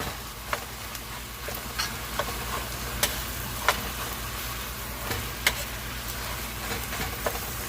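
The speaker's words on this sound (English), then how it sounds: "We're just going to go in with our meat. And we're going to brown our meat." Ground meat and onions browning in a pan for tacos, a steady broadband sizzle with occasional sharp ticks and scrapes from stirring, moderately close and continuous, no voices.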